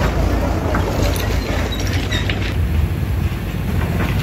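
A train carrying new rails rumbles through Beed railway station in a continuous loud, dense roar with faint mechanical creaks, and a person talks over it.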